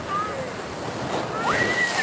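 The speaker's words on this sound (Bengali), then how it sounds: "আবার একটা ঢেউ আসছে আবার ঢেউ আসছে দেখো" Sea waves surge and break onto the beach at Digha in a steady, loud wash of surf with wind noise, and voices are heard over it throughout.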